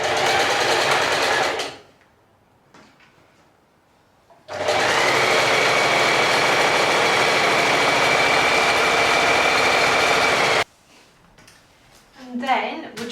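A sewing machine runs a straight seam on a gathered summer tie top, a steady close whirring burst of about six seconds after a short earlier run, with quiet pauses around it.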